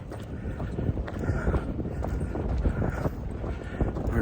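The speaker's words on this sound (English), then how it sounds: "That wind is really something." Strong outdoor wind gusts buffet the microphone during a walk with a guide dog in training after rain, a steady roaring rumble with fluctuating bursts and no talking.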